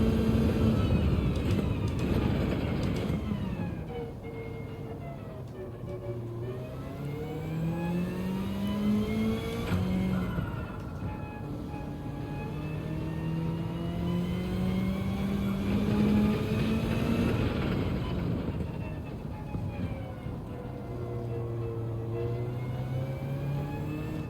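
A race car engine in Gran Turismo 7 revs up and down through repeated gear changes, a continuous loud mid-pitched drone with rising whines and shifts, and no talking.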